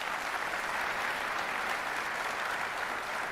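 An audience at a college president's opening day address applauds two students, giving dense, continuous clapping at an even level for a few seconds.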